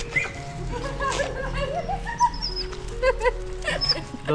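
A dog whines and whimpers in thin, high cries that rise and fall, some sounding close. A low hum runs underneath, and a person speaks quietly now and then.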